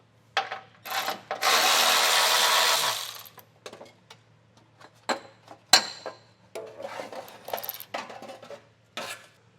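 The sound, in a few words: removing 10mm heat shield nuts on 2025 Toyota Camry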